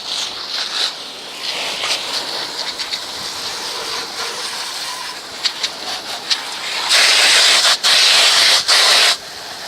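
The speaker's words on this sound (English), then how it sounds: "notice I'm spraying everything, but this is a very, very gentle spray" A steady hiss of gentle water spray from a hose over leaf-strewn ground, gentle at first and then louder and brighter toward the end, with brief interruptions.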